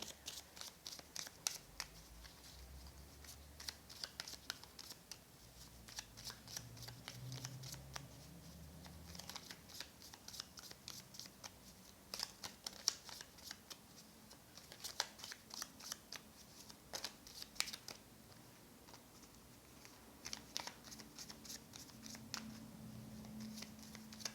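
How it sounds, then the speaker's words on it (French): Tarot cards are shuffled and dealt out into rows. Quiet, rapid papery riffles and slaps repeat steadily throughout, close and faint, with no voices. "je vais faire 2 lignes de 3 cartes"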